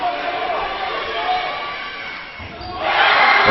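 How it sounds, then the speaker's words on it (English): A distant crowd at a dodgeball tournament cheers and shouts from another court. The cheering swells loud near the end, with a commentator talking over it. "The cheering you're hearing there is the Italians going absolutely mental for the"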